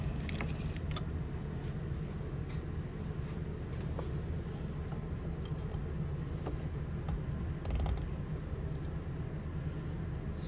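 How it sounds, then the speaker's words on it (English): A mini lathe turning a rivet down to size for a Dearborn 12-88 planter, with a steady close motor hum and grinding cut running continuously throughout, rising briefly near the end. "we machined our rivet down to size"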